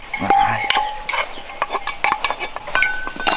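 A utensil clinks and scrapes in a bowl while Thai dipping sauce is stirred, quick repeated chinks and taps close by, with some faint background voices.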